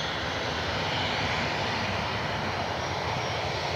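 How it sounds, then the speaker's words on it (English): A Gulfstream jet's engines roar steadily at Cleveland Hopkins airport as the plane rolls out, a loud, even broadband rumble with no pauses. "So as the Gulfstream rolls out"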